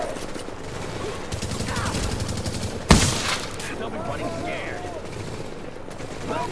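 Gunfire in the video game Tom Clancy's The Division, rapid automatic bursts rattling on and off, with one loud sharp shot standing out midway, under faint talk.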